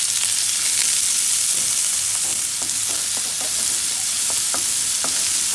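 Finely chopped onion frying in hot oil gives a steady, dense sizzle, with occasional soft clicks and scrapes of stirring throughout.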